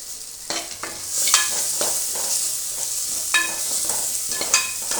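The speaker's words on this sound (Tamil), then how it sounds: "வெங்காயத்தை போட்டு வதக்கிக்கலாம்." Onions fry in a pan for pepper chicken, with a soft continuous sizzle and repeated scraping stirs of a spoon against the pan at irregular intervals.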